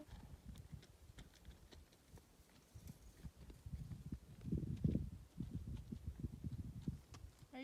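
Donkeys walking in Death Valley, hooves clip-clopping in a soft, uneven patter on dry ground nearby, with quiet, faint steps and no talking.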